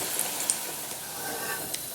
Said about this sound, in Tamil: கொஞ்சம் கொஞ்சமாக எடுத்து போட்டு பொரிக்கலாம்.